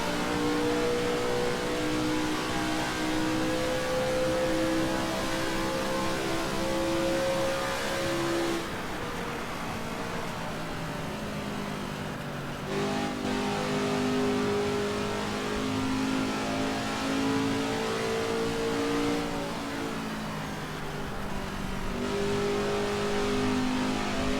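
A 1965 Indy 500 Lotus race car in Assetto Corsa drones at high revs as a steady, loud engine note, dipping briefly at a few points before climbing again.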